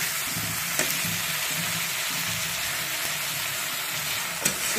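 Crab curry spice paste fries in a pan with a loud, steady, close sizzle and a few faint stirring scrapes, no talking.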